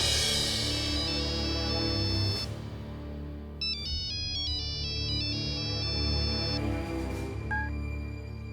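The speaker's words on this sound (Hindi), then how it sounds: "अरे तुम्हारा फोन बज रहा है भाई" A mobile phone ringtone plays a bright, repeating electronic melody in short phrases, loud and close, alone without any talking.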